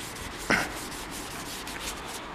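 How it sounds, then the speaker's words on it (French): Light sanding on the wooden stock of an old short-barreled hammer shotgun, a steady close rubbing scrape with soft repeated strokes and one brief louder pass near the start. "On va essayer de faire un léger poncé huilé."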